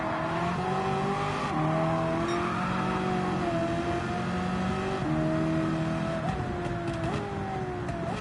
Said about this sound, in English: God, the engine on this thing sounds phenomenal.